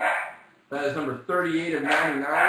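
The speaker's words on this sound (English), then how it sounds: "Sorry for the dogs." Dogs bark in the background while someone talks over them during a baseball card break, the barking mixing with his voice throughout.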